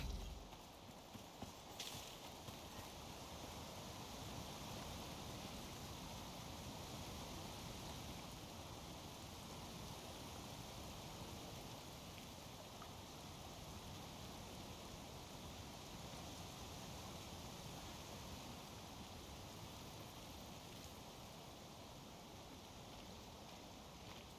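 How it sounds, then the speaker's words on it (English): A waterfall in the video game Icarus rushes as a steady, broadband wash of water noise, constant and unbroken, with no voices. "We've got the sound of the waterfall."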